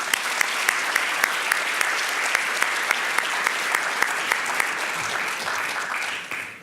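An audience at a renewable energy conference breaks into sustained, steady applause to welcome keynote speaker Phil Ting, a dense wash of many hands clapping that fades near the end.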